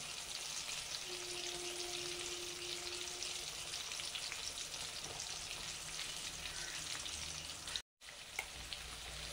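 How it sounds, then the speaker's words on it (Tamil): Dipped stuffed eggplants fry in hot oil for an Andhra-style masala dish, giving a steady, loud, close sizzle with a brief dropout near the end. "இப்போ நம்ம டிப் பண்ணி வச்சுருந்த கத்திரிக்காய் எடுத்து எண்ணெயில் போட்டு வதக்கிக்கலாம்."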